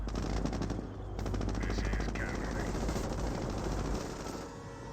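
Sustained machine-gun fire in the World War II strategy game Company of Heroes, a dense loud rattle of rapid shots under continuous battle noise, with someone commentating over it.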